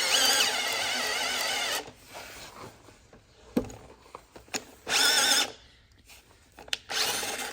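Power drill boring through an oak porch post, in several loud sustained bursts of whining bit and grinding timber, broken by pauses with scattered knocks and handling clatter.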